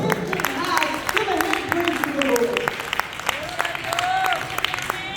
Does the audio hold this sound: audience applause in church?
yes